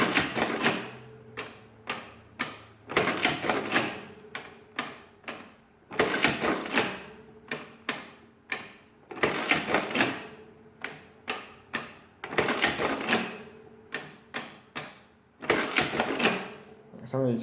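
A Burroughs Class 3 mechanical calculator runs a calculation, its keys and works giving off repeated bursts of rapid, loud clattering clicks in rhythmic groups, close by.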